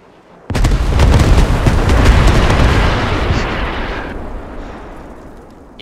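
Bombs exploding in the video game Arma 3: a sudden heavy blast bursts in after a short silence, then rolls into a long, loud rumble that slowly fades.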